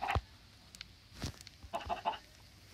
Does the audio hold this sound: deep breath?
no